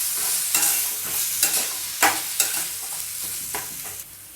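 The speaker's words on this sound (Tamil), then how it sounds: "தக்காளி போட்டு நல்லா வதக்கி விடுங்க." Tomatoes and green chillies sauté in a pan for a green chilli poriyal, giving a steady close sizzle broken by several sharp scraping stirs of the spatula, with no voices.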